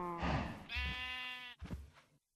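Minecraft sheep bleating in the video game, two drawn-out wavering bleats followed by a short third, close and clear with no talk over them.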